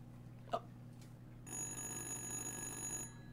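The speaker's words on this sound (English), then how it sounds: "Answer the goddamn phone." Telephone ringing in the horror video game Little Hope: a steady electronic ring lasting about a second and a half, preceded by a brief click, over a low constant hum.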